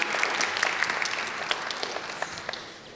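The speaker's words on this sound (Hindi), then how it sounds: "अनुषा के लिए तालियां हो जाएं" A studio audience on a Pakistani talk show applauds for guest Anoushey Ashraf, a dense, steady wash of clapping with scattered sharper individual claps, sustained throughout at moderate loudness with no talk over it.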